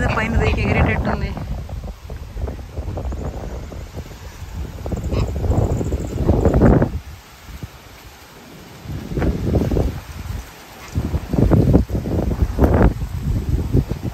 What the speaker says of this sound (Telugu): సాయంత్రం బాగా గాలి వచ్చిందండి,